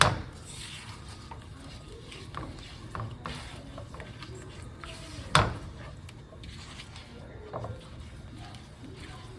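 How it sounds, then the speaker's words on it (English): Utensil scraping and stirring French-style scrambled eggs in a pan, soft steady rubbing with light clinks and one sharper knock midway, close and fairly quiet. "Keep stirring it."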